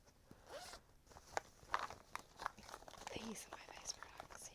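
A zipper on a small bag is worked open or shut in several short raspy pulls close to the microphone, with soft handling noises and quiet talk in the background.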